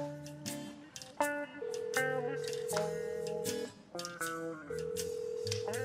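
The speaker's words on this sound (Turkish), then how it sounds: "Ben bir telefon edeyim." A telephone number being dialed, a quick run of distinct dialing tones rising and falling in pitch, close by and fairly quiet, with no speech.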